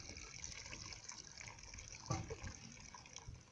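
Children draw water from a newly built well in Cameroon, with a steady rush and splash of water into containers throughout, one sharper slosh midway, and no talk.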